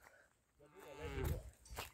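Cattle on a farm moo once, a long low call that swells and fades, heard faintly at a distance with no talk.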